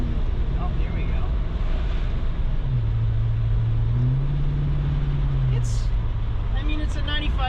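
A 1995 Ford Mustang GT with about 80,000 miles revs and shifts gears while driving, a rising engine drone that dips at the shift and climbs again under wind rush and occasional speech.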